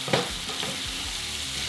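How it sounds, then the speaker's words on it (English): Ground meat for military-style sloppy joes sizzles and simmers in a pan, a steady close frying hiss with a few soft stirring scrapes near the start. "Now we're gonna let this simmer"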